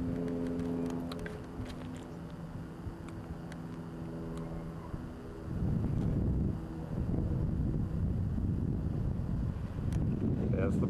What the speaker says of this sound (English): And he'll be doing a rolling takeoff.